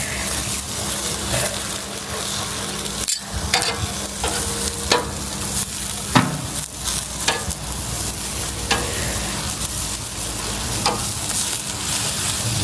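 Hot dogs sizzle steadily in a hot pan for a long stretch, with intermittent sharp clicks and scrapes from turning them and a brief splash of water partway through. No one speaks.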